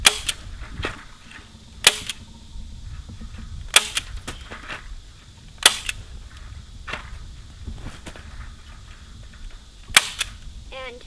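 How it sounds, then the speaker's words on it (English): A staple gun drives staples into fence wire on a portable fence, giving about six sharp, loud snaps spaced roughly two seconds apart, with handling noises and faint rustling in between. "Next, we're going to staple this in,"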